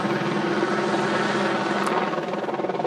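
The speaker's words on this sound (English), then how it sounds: "this helicopter is actually turning above my head" A helicopter circles low overhead, its loud continuous rotor chop and engine whine filling the air steadily throughout.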